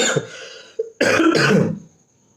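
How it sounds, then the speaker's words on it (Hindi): A couple of harsh, close coughs and throat rasps in quick succession, then silence. "सॉरी खांसी बहुत आ रही"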